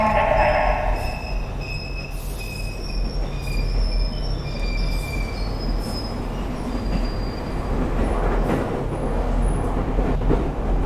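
Loud, steady railway rumble with high metallic wheel squeal throughout, like a train approaching or passing on nearby tracks, with no talking.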